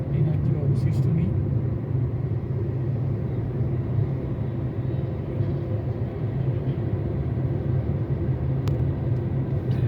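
A car cruises at an easy pace along the highway between Kolkata and Siliguri, a steady low road-and-engine rumble that holds evenly throughout, with faint traffic noise above it.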